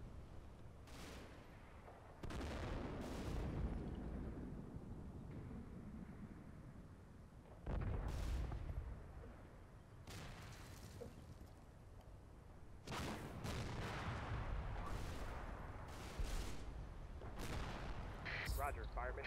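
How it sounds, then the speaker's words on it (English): Mortar shells land in the Combat Mission: Final Blitzkrieg wargame, giving repeated heavy booming impacts at uneven intervals, some clustered, with rumbling decay between them and radio-style voices over the barrage. "there we go, mortars dropping down there now"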